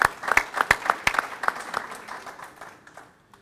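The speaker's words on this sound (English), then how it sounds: "big round of applause for both of you guys" Audience applause at the Petersen Automotive Museum: a small crowd claps in sharp, separate claps that thin out and fade over a few seconds, close by.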